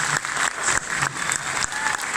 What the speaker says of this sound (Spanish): Yo quiero que le demos un aplauso al Señor Giovanni.